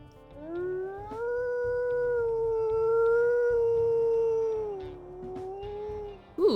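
A single long, wavering wolf howl from a video game creature rises and holds a clear tonal pitch for several seconds before dipping, with a low rhythmic game sound pulsing underneath and a brief burst at the end.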